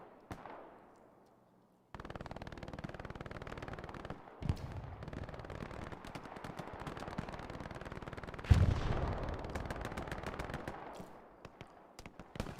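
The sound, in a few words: artillery fire in video game Hell Let Loose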